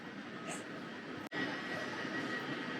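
Steady rumbling drone inside a moving train carriage, a low continuous roar with a brief sharp dropout in the middle, heard from within the car.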